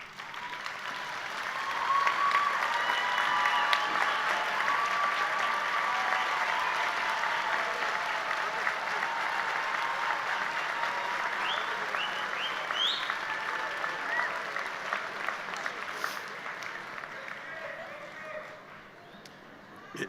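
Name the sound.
audience applause for graduates' family and friends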